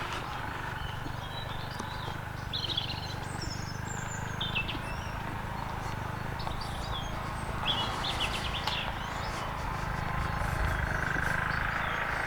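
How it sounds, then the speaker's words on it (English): Birds chirp and sing intermittently along a countryside trail near Dittisham village on the Dart Valley Trail, moderately distant calls over a steady outdoor background hum. "the sounds of birds are unfolding around us"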